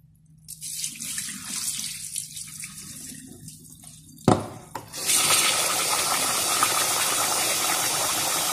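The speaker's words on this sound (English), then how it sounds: "It's important to rinse the rice one time at least." Tap water running into a pot as rice is rinsed, first a quieter trickle with sloshing grains, then a sharp knock and the flow opening up into a louder, steady gush.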